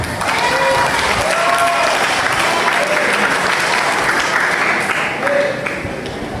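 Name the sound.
audience applause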